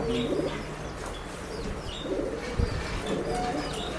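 Pigeons at a pet shop coo in soft, repeated low bursts, with scattered chirps and a brief rustle mixed in, set against steady background room noise.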